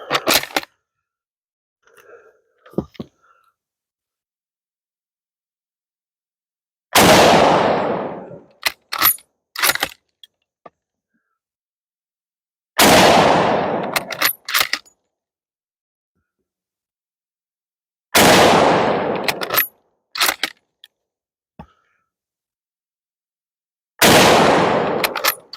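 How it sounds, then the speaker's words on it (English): Turkish M1938 Mauser bolt-action military surplus rifle fired outdoors, five loud, sharp single shots spaced several seconds apart, each followed by a brief trailing echo and faint clicks of the bolt being worked between rounds. "we're going to see how it shoots. 5 rounds, just like any other typical Mauser."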